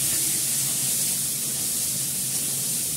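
Onion and potato frying in a pan, a steady close sizzle and hiss running evenly throughout with no talk over it.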